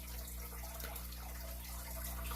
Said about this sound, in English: That's why it sounds like running water, but it's the filter.